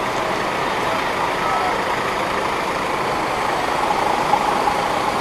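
A Hino RK8 coach bus engine running at a gathering of departing buses, a loud steady diesel rumble close by with a few faint horn-like tones near the end.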